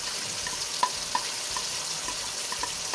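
Boiled fish pieces fry with spices in a pot while being stirred, giving a steady hiss and sizzle with light scraping clicks from the spoon at irregular intervals, with no one talking.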